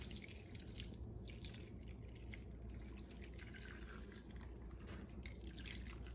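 A whisked liquid mixture pours over sliced potatoes for scalloped potatoes, giving a steady wet splashing and dripping patter that runs throughout, close and continuous.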